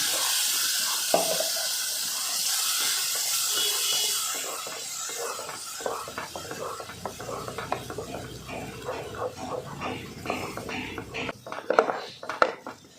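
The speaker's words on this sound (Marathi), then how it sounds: "आता मिक्सरमध्ये बारीक केलेलं यामध्ये वाटण घालायचं आहे ते पहिल्यांदा छान परतून घ्यायचं आहे" Ground masala paste hits a hot pan with a loud steamy hiss that fades after a few seconds, followed by close, repeated scraping and clinking of a spoon stirring the paste, growing busier toward the end.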